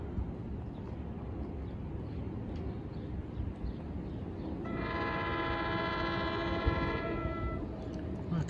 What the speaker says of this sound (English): Should be the train to Waldwick.